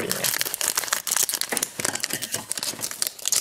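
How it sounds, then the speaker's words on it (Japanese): Buddyfight trading card booster packs are torn open up close, with rapid crinkling and crackling of the wrappers in busy, dense bursts. "今日はバディファイトドラゴンバンチを5パックと100円ドラゴン2パック開封します"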